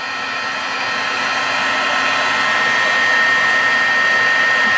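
A heat tool blows continuously up close to heat set embossing powder on a card, giving a loud, steady, hair-dryer-like roar that swells slightly over time, with no talking.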